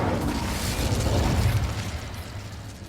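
An Incendio fire spell cast in Hogwarts Legacy gives off a dense, roaring whoosh of flame. It is loud and continuous throughout, with a deep rumbling body that eases slightly at the end.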